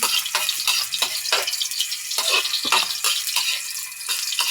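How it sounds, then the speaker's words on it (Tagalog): Ginger sautéing in cooking oil in a pan, a bright hissing sizzle broken by repeated scraping stirs at an irregular rhythm, close and fairly loud with no talking. "Para igisa na yung mga sangkap. Una ay luya."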